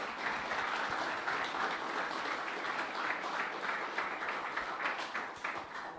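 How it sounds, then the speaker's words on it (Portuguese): An audience applauds at the launch of a youth sports apprenticeship programme, giving steady, even clapping throughout with no talking. "Uma salva de palmas."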